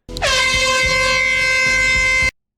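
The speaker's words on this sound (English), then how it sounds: "He proceeds to use an air horn to call the others" A single loud air horn blast in a film scene, steady and brassy, held for about two seconds before cutting off sharply.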